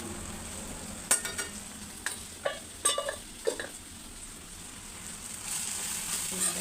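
Frying ingredients are stirred in a pan. Several sharp scrapes and clinks of the spoon against the pan stand out over a steady low sizzle, up close, with no talk.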